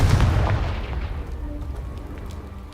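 A Confringo blasting spell detonates in Hogwarts Legacy, a single heavy boom up front that rumbles and fades away over a couple of seconds, with debris settling faintly afterward.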